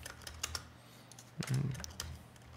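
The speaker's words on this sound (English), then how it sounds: "just type it in" Keys tapped on a computer keyboard while entering a number into a 3D title graphics program, a few soft clicks spread over the moment, faint and close against quiet room tone.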